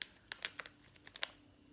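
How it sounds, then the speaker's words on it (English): A plastic envelope holding a lateral flow test is ripped open at its notches, producing faint, sharp crinkles and tearing crackles in a quick irregular series, close-up and quiet. "if you open this, there's some little nicks near the top, so you'll be able to rip it open"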